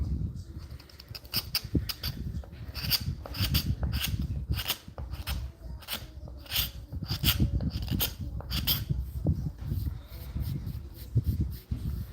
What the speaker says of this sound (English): So I've got some scraping to do.